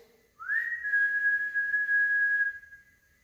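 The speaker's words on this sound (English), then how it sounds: "I thought it was like a whistle." A single sustained whistle, a clear steady tone that rises briefly then holds for about two seconds before cutting off, heard in a quiet room during a paranormal investigation.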